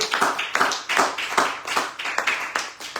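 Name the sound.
applause in church service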